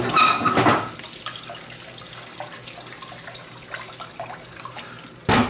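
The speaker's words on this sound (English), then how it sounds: "Add the stock, about 3 cups of fish stock." Fish stock pours into a pan for poached salmon, a loud splashing gush at the start settling into a steady trickle, then a final burst of liquid, close up.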